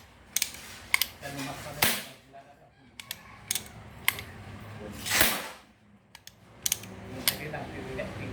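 Sharp pneumatic bursts from an air gun tapping a valve during a leak repair fire in short repeated pops and taps, several close together, with a few hissing blasts between them.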